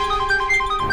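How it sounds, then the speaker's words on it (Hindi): A mobile phone rings alone and unanswered in a quiet room, its steady electronic tones repeating in a short, regular pattern with nobody talking over it. "फोन अभी भी बज रहा है।"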